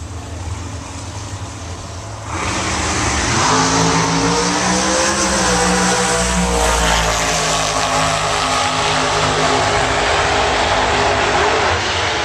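A Chevrolet El Camino race car runs at Palm Beach International Raceway, its engine swelling into a loud, sustained roar that rises in pitch and stays strong to the end, after a quieter opening idle.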